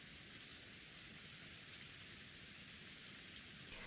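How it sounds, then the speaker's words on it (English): Steady rain falls in the Umineko: When They Cry visual novel, an even, dense hiss of drops holding at a constant soft level throughout, with no voices. "雨とうとう降り出したのね。"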